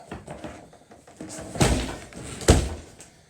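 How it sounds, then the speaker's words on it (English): An old custom-made wooden cabin door with hand-made straps swings and thumps shut, with creaks and two heavy knocks close by. "Still got my old door."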